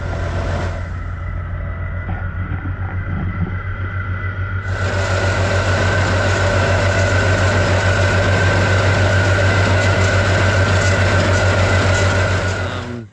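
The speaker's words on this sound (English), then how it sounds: "I'm not worried about whether you hear the tractor or not." A tractor engine drones steadily and loudly in a hay field during round baling, a constant low rumble with a slight rise in intensity partway through.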